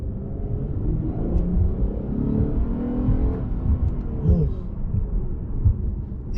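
A Lexus IS350 sedan or RC350 coupe, shifted down a gear, revs with a low, steady engine rumble that climbs and drones in the cabin. The engine note is heard alone, with no talk over it.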